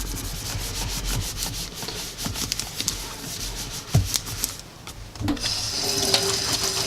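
Tap water runs steadily while a soapy label is rubbed and rinsed under it, a close rushing splash with scrubbing friction and a few brief knocks against the sink.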